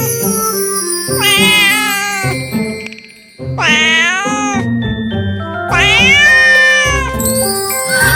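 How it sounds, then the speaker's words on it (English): A cat meows several times in a row, loud and close, each call rising and falling, with short gaps between them and a faint jingle in the background. "It's a cat."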